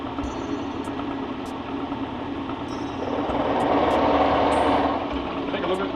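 Motor of a machine tool running to modify a pulley, a steady close whirring drone that swells in the middle, with sharp ticks over it and speech alongside.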